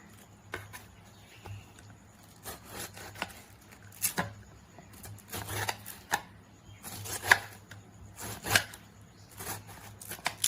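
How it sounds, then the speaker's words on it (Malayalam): A knife cuts fruit into small pieces for a jam, giving irregular short chopping and scraping knocks on a board, close and fairly quiet, with pauses between strokes. "ഞാനിതിങ്ങനെ ഒന്ന് കട്ട് ചെയ്തെടുക്കുകയാണ്"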